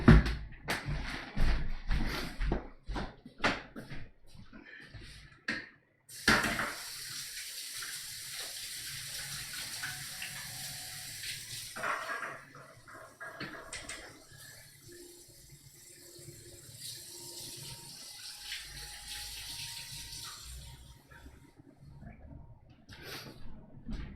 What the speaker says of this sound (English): I'm just gonna wash my hands 1 sec.